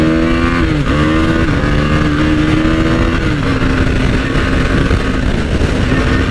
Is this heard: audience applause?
no